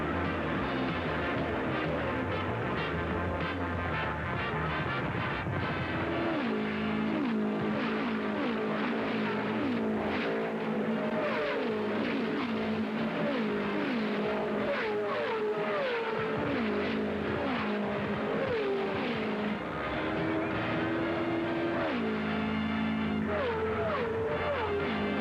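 Race cars at the 1972 Indianapolis 500 roaring past in a steady, loud stream of high-revving engines, with rising and falling pitch as cars pass close by, one after another.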